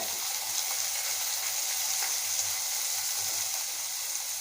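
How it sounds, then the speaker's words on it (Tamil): Onions and green chilies sautéing in a pan for a wheat roti dish give off a steady, even sizzle with soft hissing that runs throughout, moderately near and without talk. "நம்ம வெங்காயம் பச்சை மிளகா எல்லாம் நல்லா வதங்கட்டுங்க"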